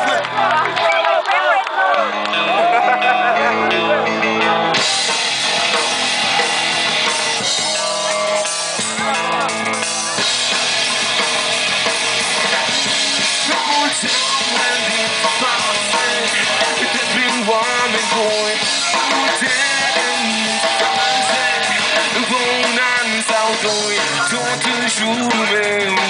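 A festival crowd at the Free Fest rock concert cheers and claps continuously beneath loud, dense live band music and singing, with the crowd noise blended into the sustained wall of sound.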